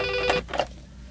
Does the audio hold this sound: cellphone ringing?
yes